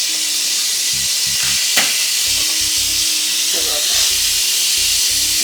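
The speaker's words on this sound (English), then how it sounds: "I'm gonna add a little bit of chicken broth" Chicken broth poured into a hot pan while cooking Filipino pancit, giving a steady sizzling, frying hiss with bursts of stirring and clatter, close and fairly loud, with brief talk in the background.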